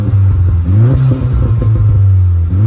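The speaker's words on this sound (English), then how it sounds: "let's see if we can hear any burbles" A tuned 330 hp VW Polo GTI engine revs and settles on a quiet, windless road, its low exhaust note rising and falling in short bursts with faint crackling burble between throttle blips, close and alone.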